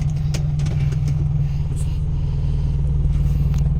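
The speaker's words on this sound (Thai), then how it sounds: "ท่อจะซิ่งๆหน่อยนะครับเหยียบ" A 2005 Toyota Vios E automatic on a test drive, its modified exhaust and engine giving a loud, steady low rumble throughout from inside the car.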